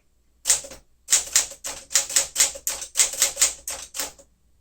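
A 1959 Smith-Corona Sterling manual typewriter is typed on in about a dozen crisp keystrokes, a clear run of sharp clacks after a short pause. Each one lands up close and distinct in a quiet room.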